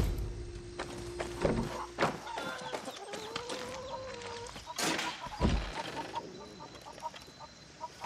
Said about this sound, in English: It's my fighting rooster, El Gallo Magnifico.